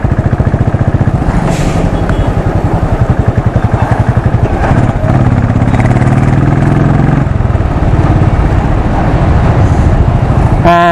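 A 2016 Royal Enfield Classic 500 Desert Storm motorcycle thumps steadily through a crowded Indian marketplace, its loud, close single-cylinder beat continuous under a wash of street and traffic noise.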